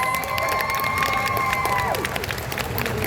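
Crowd applause and cheering from an audience at a Goofy Movie fan convention panel in New Orleans, steady and dense throughout with whoops and scattered shouts over a continuous clapping roar.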